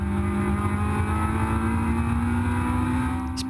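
A race car engine drones at high, steady revs from inside the car during a race at Brands Hatch, a loud continuous hum with road rumble beneath.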